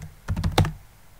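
A few quick keystrokes clatter on a computer keyboard as terminal commands are typed on Linux Mint or Ubuntu. The taps come in a short close cluster, quiet and with no talking.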